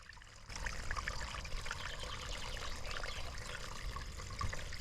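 Steady rushing and trickling water flows continuously through a pipe in a muddy well, a dense, fairly faint wash of liquid noise with no talking.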